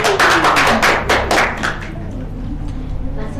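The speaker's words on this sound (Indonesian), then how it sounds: "Tepuk tangan Mbak Vidya." A third-grade elementary classroom applauds a student with a short burst of quick, close hand claps and taps. The clapping lasts under two seconds and then fades into quiet room sound.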